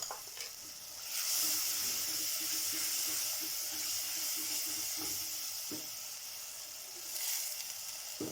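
A soft, steady sizzle of spices tempering in hot oil for Lahori chickpea curry, a faint crackling hiss that swells a little and continues without talk.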